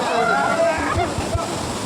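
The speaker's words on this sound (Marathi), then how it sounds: "पुढे एन्जॉय करण्यासाठी धबधब्यामध्ये एंट्री करत आहेत" Rushing water of Tukai waterfall near Ambajogai roars steadily while people splash and slosh nearby, with voices mixed in.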